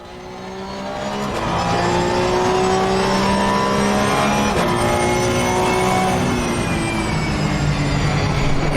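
Porsche 911 GT3 Cup 992 in a racing video game, engine droning steadily with a thin, subtle drivetrain whine riding above it as the car rolls off throttle, loud and sustained with no talking.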